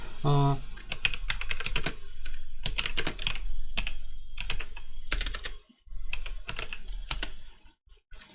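Fingers type on a computer keyboard in quick bursts of close, crisp keystrokes with short pauses, including a firmer press of the enter key.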